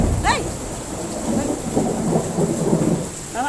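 Thunder rumbles through steady rainfall, a moderately distant roll layered over the constant patter of rain, with a brief voice at the start and end.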